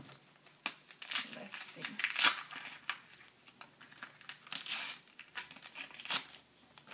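Plastic packaging of a single-use sheet face mask crinkles and tears as it is opened by hand, with repeated close rustling bursts and brief talk over it.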